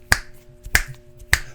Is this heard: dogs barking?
no